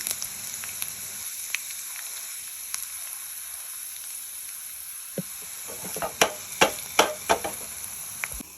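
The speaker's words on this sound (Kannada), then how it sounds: "ಕರ್ಬೇವಿನ ಸೊಪ್ಪು ಹಾಕ್ತಾ ಇದ್ದೀನಿ" Curry leaves dropped into hot tempering oil with mustard seeds and green chillies for a lentil kosambari, a soft steady sizzle broken by several sharp crackles and pops toward the end, close and without talk.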